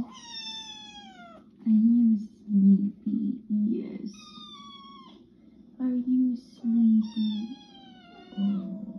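A cat meows repeatedly, several drawn-out, rising and falling cries at close range, amid a rumbling background and bursts of low voices talking.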